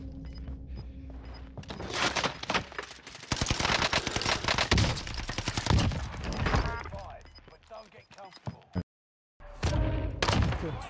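Rapid bursts of automatic gunfire fill a Warzone battle royale match, dense and loud for most of the stretch, with a brief silent gap before firing resumes; a player's voice talks over the shooting.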